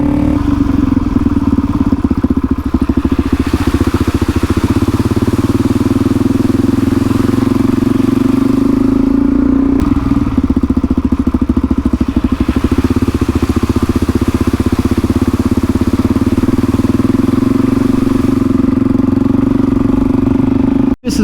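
A Suzuki DRZ400E with a big bore kit and 17-litre Safari tank drones steadily while riding, a loud continuous single-cylinder engine note with slight rises and dips in revs, heard from the rider's position.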